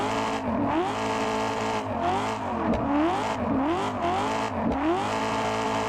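Car engine in Assetto Corsa being throttled hard through a drift, revs rising and falling in repeated surges with tire squeal, loud and continuous without any talk.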